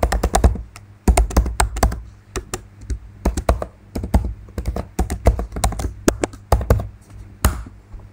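Keys clacking on a computer keyboard as a username and password are typed, close and clear, in irregular bursts of quick taps separated by short pauses, with no talking.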